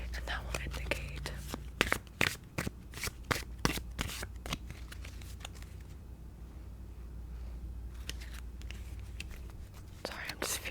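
Tarot cards being shuffled up close in a soft whispery setting, several sharp riffling bursts, a quiet pause, then more shuffling, with a faint voice now and then.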